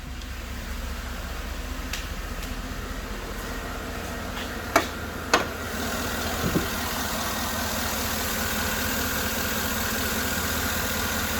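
A 2012 GMC Yukon Denali's 6.2 engine idles steadily with the hood open, a low, even hum running throughout, broken only by a few brief clicks and taps near the middle.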